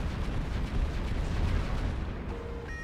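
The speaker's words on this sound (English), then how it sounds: "Plasma cannons to finish him." Plasma cannons in the space strategy game Final Theory fire a steady barrage of heavy, rumbling booms. The volley runs loud and continuous, then eases off near the end, where a faint tone rises.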